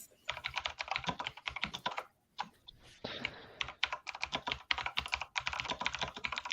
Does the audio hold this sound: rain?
no